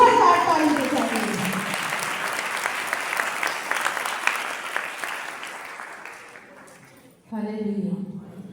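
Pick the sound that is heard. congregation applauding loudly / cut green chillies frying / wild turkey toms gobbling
congregation applauding loudly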